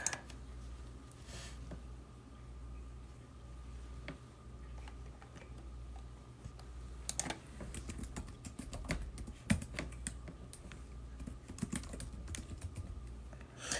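Quiet, steady keystrokes patter on a computer keyboard in a room, with small bursts of faster clicks and a low background hum.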